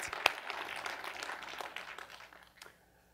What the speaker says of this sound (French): Soyons pas timides, applaudissons la résurrection de Christ.